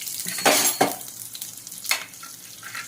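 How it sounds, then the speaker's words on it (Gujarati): Mustard and cumin seeds crackle and sizzle in hot oil with a few bursts of louder spattering and some stirring scrapes, no voices. "અડધી ચમચી રાઈ નાખી દઈશું અડધી ચમચી જીરું નાખી દઈશું"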